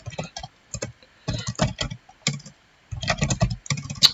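Someone types on a computer keyboard up close, with irregular bursts of crisp key clicks separated by short pauses, heard alone.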